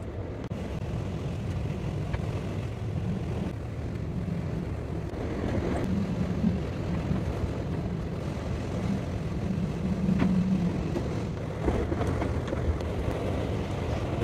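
Strong 70 mph wind gusts buffet a shed carrying a DIY wind turbine, a continuous rumbling roar that swells and eases in waves with no talking.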